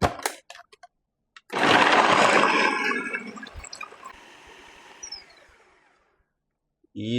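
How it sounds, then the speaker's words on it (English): A food processor blender chops ginger for Jamaican ginger beer, a loud whirring burst of about four seconds that starts abruptly, then fades and winds down, with short clicks from the lid before and after. "Here I'm going to use my food processor blender to blend the ginger."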